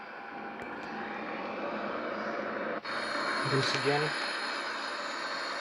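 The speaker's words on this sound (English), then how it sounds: "Now we are approaching for landing with the Boeing 737." Inside a Boeing 737 on approach for landing in X-Plane 11, a steady aircraft engine roar drones on evenly while someone briefly speaks over it.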